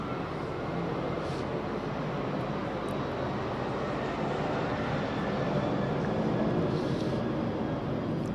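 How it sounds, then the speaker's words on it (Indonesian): A fixed-wing airplane passes overhead as a steady, broad roar that holds fairly even and moderately loud throughout, with no talking. "Tiba-tiba kok pesawatnya lewat."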